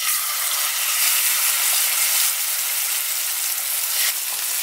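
Chicken sizzles and crackles in a hot pan, a steady, close, dense frying hiss that runs throughout with no talking.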